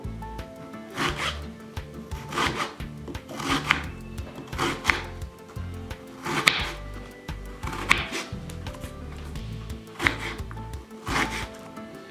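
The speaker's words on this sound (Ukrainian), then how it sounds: "Нарізаємо цибулю напополам." A knife cuts an onion in half on a wooden board, giving a series of crisp chopping strokes with a slicing rasp, repeated roughly every second or two, close by and without talking.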